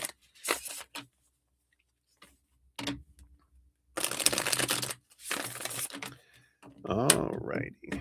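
Tarot cards riffled and shuffled in several bursts of crisp, papery rustling, with pauses of near silence between them; a brief voice sound breaks in toward the end.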